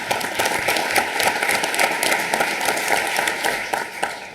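Warm applause from an audience at a school district town hall meeting, a full, continuous patter of many hands clapping at even strength from start to finish.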